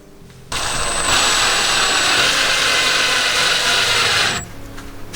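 A power drill bores a pilot hole into half-inch plywood, one steady, loud whirring burst lasting about four seconds before stopping, with no talk.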